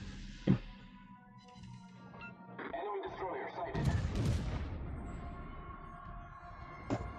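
Warship turret guns fire in a video game, a few deep booms with a sharp early crack and a louder rumbling salvo mid-clip, fading into a low rolling tail.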